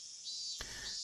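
A steady, high-pitched cicada drone fills the air continuously in the visual novel Higurashi no Naku Koro ni, with a brief soft thump partway through.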